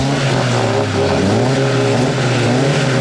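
A sport compact race car at a drag race roars loudly and steadily close by, its engine note shifting as it pulls off the line and accelerates.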